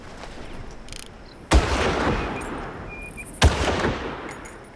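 Two heavy sniper rifle shots boom out in Far Cry 3, about two seconds apart, each sharp crack followed by a long rolling echo over quiet ambient game sound.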